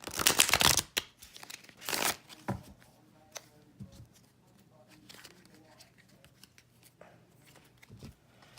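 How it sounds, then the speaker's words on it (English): Tarot cards being shuffled and drawn, with two quick bursts of riffling near the start followed by softer scattered flicks and taps as cards are laid down. "So I am going to throw out a couple tarot cards."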